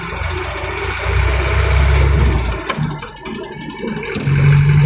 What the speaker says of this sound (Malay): Tapi knocking masuk kuat